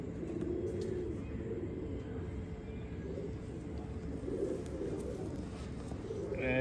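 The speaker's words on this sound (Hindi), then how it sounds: "माशाल्लाह पूरा कबूतर है जी" Domestic pigeons coo close by in a continuous low, throaty murmur, several birds overlapping with no pause, from a flock of show-quality pigeons kept by a fancier.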